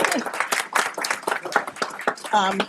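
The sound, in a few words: audience applauding utility providers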